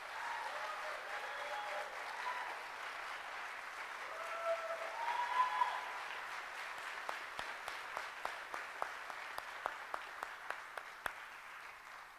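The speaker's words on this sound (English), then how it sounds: "Ladies and gentlemen, can we give Dustin a great big round of applause?" Quiet audience applause at a city manager swearing-in ceremony swells with a few whoops, then thins into scattered, distinct claps that fade out one by one.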